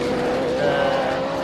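A UK hill climb race car chassis passes at a hill climb event, its engine droning as a steady, fairly loud tone that rises slightly in pitch mid-pass with no one talking.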